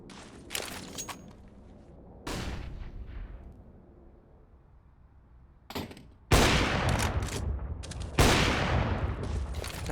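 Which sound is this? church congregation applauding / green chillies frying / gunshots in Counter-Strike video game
gunshots in Counter-Strike video game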